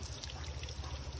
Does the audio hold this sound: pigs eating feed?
no